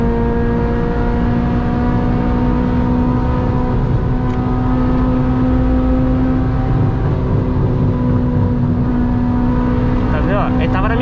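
A Volkswagen Amarok V6 pickup accelerating hard in a race against a Civic Si, a loud, steady engine drone with a low hum heard from inside the cab, rising slightly, with someone talking over it.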